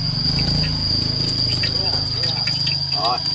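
Cicadas at night keep up a constant, shrill, piercing drone from start to end, while people chat and handle things nearby.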